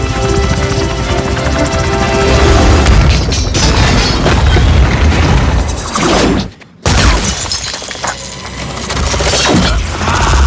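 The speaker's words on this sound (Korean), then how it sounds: "스티브는 엄청난 힘으로 헬기를 끌어당기는데" In a Marvel movie scene, a helicopter roars as Steve hauls it back by force. The loud rotor and engine din is mixed with heavy booms and shattering crashes, cuts out to near silence for a moment, then surges back.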